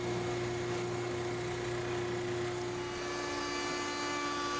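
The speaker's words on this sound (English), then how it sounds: "So I just did that all on the router table again." A router table rounds over the edges of walnut pieces, giving a steady, loud high-pitched motor whine with constant tone and no pauses, heard up close.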